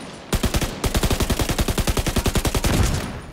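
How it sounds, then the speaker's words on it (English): Enemy gunfire in The Division 2 rattles out as a loud, evenly paced machine-gun burst of about twenty distinct shots following a single opening crack. "there just needs to be some way to identify where these shots and stuff are coming from"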